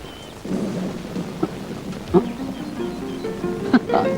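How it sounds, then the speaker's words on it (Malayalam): A steady wash of rain starts up near a hilltop, with low thunder rumbling and occasional heavier drops and knocks, fairly close and loud throughout. "മഴ മഴ പെയ്യുന്നു"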